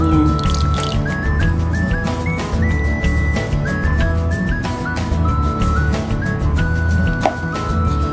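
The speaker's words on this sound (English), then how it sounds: "And then yung marinade natin, siyempre, isasali natin." Marinade pours over pork in a cooking pot, a close, continuous liquid stream with dripping and bubbling tones throughout.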